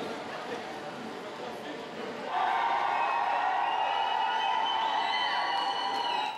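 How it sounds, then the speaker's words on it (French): A dense, joyful crowd of thousands of young people gathered at Bern's central station for a national youth meeting, a loud mass of cheering and shouting voices that swells and grows louder partway through. "Une foule compacte et joyeuse,"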